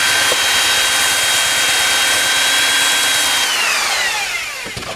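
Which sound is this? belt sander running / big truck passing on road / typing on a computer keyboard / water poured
belt sander running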